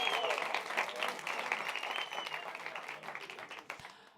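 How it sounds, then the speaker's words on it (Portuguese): A room full of people applauds steadily, dense clapping that gradually thins and fades toward the end, with faint voices mixed underneath. "Uma salva de palmas para ele"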